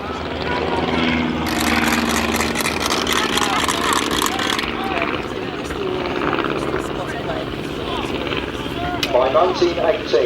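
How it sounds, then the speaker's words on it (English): British SE5a biplanes fly in during a historical reenactment display at Kirby Hall, a loud, steady engine drone that swells and holds while an announcer talks over it. "And once again the aircraft come in, ladies and gentlemen."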